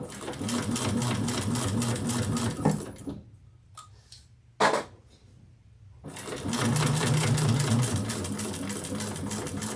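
A sewing machine runs in two steady stretches of rapid stitching, loud and close, with a brief pause in between broken by a single sharp clack.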